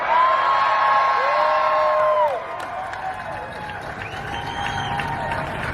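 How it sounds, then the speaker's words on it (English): A large outdoor crowd at Def Leppard's Hollywood Walk of Fame star ceremony cheers and whoops with sharp rising whistles, loud at first and then settling into a lower, sustained roar. "We have an amazing crowd. There's no crowd like a rockin' crowd."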